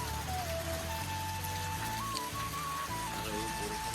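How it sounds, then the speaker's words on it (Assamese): Heavy rain pours outdoors in a village while gusts of wind sway the trees, making a dense, steady hiss throughout, with a thin wavering tonal line running over it. "ৰাতিপুৱা পূৰা আজি দি আছে বৰষুণ"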